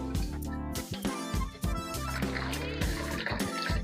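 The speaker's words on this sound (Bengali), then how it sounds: "ভাই এমনি করে জল ভরবে ঢেলে ঢেলে" Water is poured into a bottle at home, with uneven splashing and trickling bursts close by while a voice talks over the pouring.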